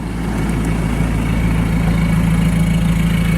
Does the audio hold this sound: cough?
no